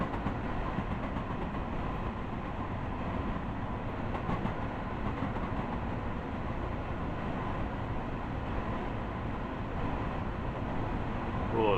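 An M7 LIRR commuter train runs from Hempstead to Atlantic Terminal in the game Train Sim World 2020, giving a steady, moderately loud rumble with a faint rhythmic clatter and no speech.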